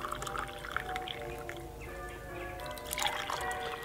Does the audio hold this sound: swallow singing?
no